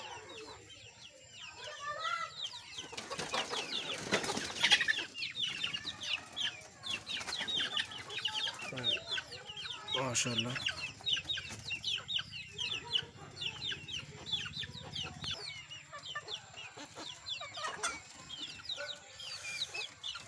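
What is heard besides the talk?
caged chickens clucking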